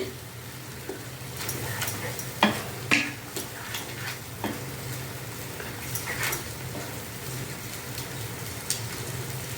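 A masala paste for goat head curry frying in a pan while being stirred, with a steady low sizzle and several sharp spoon scrapes and clinks against the pan, close and without talk.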